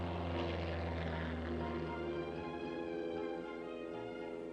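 A small propeller plane drones steadily overhead near a busy Anchorage airfield strip, with a loud sustained engine hum and strong harmonic tones that shift slightly in pitch as it passes.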